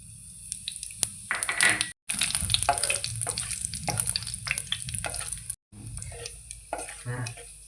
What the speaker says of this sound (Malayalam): ഇത് നമുക്ക് ഇളക്കി കൊടുക്കാം.